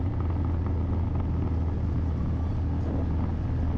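Continuous low engine rumble and road noise from a car driving through traffic in Roxas City, steady and moderately quiet throughout with no talking.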